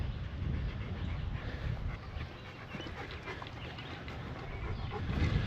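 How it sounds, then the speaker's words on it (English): A 100-pound Rottweiler pants close by in quick, steady, rhythmic breaths that continue throughout the clip, with no talk. "Axel's a 100-pound Rottweiler, which is a good sized dog"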